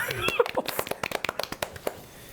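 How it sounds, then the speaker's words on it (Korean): A small church group claps a short round of applause, a handful of near, distinct hand claps in a quick irregular patter that thins out and stops, with a voice briefly heard at the start. "박수 한번."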